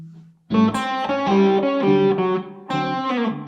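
Overdriven electric guitar plays blues guide tones through a chord change, sounding a few sustained distorted notes and double stops close and loud, with a brief pause before the next phrase.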